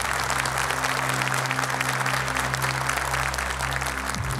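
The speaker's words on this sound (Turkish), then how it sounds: "alkışlarınızla Yasin Şimşek." Steady, sustained applause from a large audience at a Quran recitation competition, loud and even throughout with a low hum underneath.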